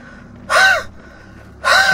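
A voice imitating heavy panting, two loud raspy gasping breaths about a second apart, close and alone against faint background.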